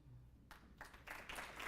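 Audience applause at a State of the Cities 2023 civic gathering honoring city administrators, a soft, distant patter of clapping that starts abruptly and swells steadily over a couple of seconds in a large room.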